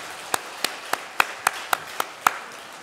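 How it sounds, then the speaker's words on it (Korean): Sparse, evenly spaced claps at a Korean Sunday church service, about nine sharp distinct slaps in a slow steady rhythm, fairly quiet and heard alone without talk. "하나님께 영광의 박수 올려드립니다"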